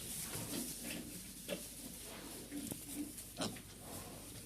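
Newborn piglets, about a week old, grunt and squeal now and then in a straw-bedded pen under a heat lamp over a steady hiss of background noise, with small patters and rustles around them.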